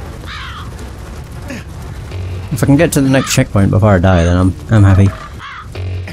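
Crows cawing in a horror video game, a few faint caws at the start while someone talks loudly over game ambience.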